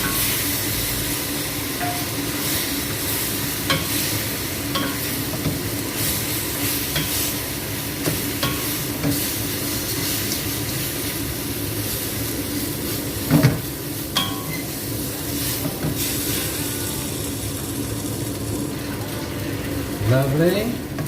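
Kway teow noodles stir-fried in a hot pan, with a constant loud sizzle and hiss, occasional scraping clatters of a utensil, and a voice talking now and then.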